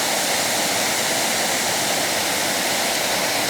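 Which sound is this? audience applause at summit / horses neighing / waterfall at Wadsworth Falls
waterfall at Wadsworth Falls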